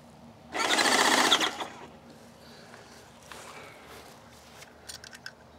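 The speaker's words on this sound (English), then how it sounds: "I'm gonna turn the pump up from 2 to 4." A Titan Control Max 1900 airless paint sprayer pump, turned up from 2 to 4, buzzes loudly for about a second, then falls quiet, followed by a few faint clicks and rattles.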